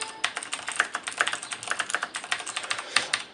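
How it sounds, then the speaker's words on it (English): Rapid mechanical key clicks from a Razer BlackWidow Ultimate keyboard during a gaming session, a steady close-up clatter of individual keystrokes with no voices. "The sound of the keys and the actual feel of the keys reminds me of something very funny."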